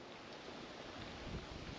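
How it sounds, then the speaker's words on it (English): Wind blowing steadily outdoors on a bank by the water during a fishing trip, a constant broad rushing noise with slight gusts and no voices. "It's pretty windy"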